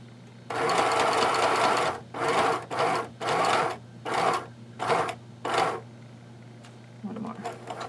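Sewing machine stitching fabric while guiding it to a marked point: loud, close whirring bursts of rapid stitching, about seven runs of one to two seconds each separated by brief pauses, with a low steady hum underneath and faint talk near the end.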